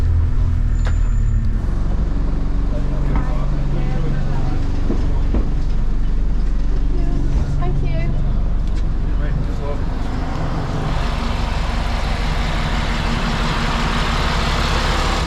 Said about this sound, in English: We'll see where this bus stops now.